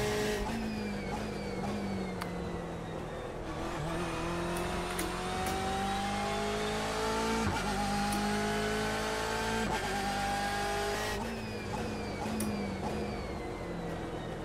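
BMW M8 GTE race car in the iRacing sim spinning out, a steady engine drone with pitch that sweeps and wavers as the revs rise and fall, loud and continuous with a brief sharp change midway and no talk.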